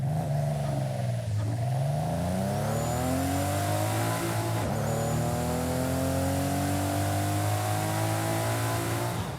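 Toyota Chaser GT TT in the racing game Forza Horizon 5 revs loudly and continuously, its engine note sweeping down, then climbing and holding high with a brief dip midway, heard alone without talk.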